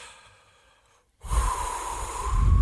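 One person breathes to calm down after a panic attack. There is a soft exhale, a pause of silence, then a long loud breath drawn in close to the microphone.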